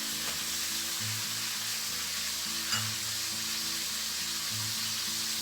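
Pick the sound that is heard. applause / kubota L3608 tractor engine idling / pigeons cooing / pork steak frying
pork steak frying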